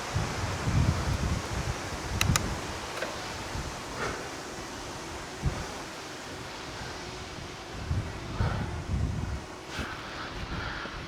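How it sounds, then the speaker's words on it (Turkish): Gusty wind buffeting outdoors in a Swiss village, rumbling in uneven surges with rustling, moderately loud and continuous, no voices. "İyi rüzgar esiyor."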